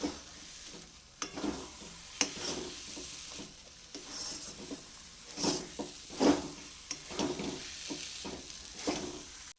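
Semolina frying in ghee in a kadai for sooji barfi is stirred steadily, a soft continuous sizzle broken by repeated scraping strokes of the spoon against the pan, close and moderately quiet.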